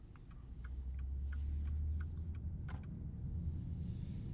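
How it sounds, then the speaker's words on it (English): A Maserati Ghibli Trofeo's turn signal ticks in a steady, soft rhythm over the low rumble of the car's cabin, with no one talking. "And then the turn signal sound. Unobtrusive."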